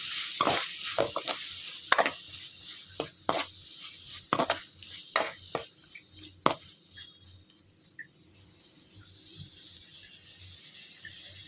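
A spoon stirs tomatoes, onion and green chillies in a pan for sorakaya charu (bottle gourd curry), giving irregular sharp knocks and scrapes against the pan for about seven seconds before falling quiet.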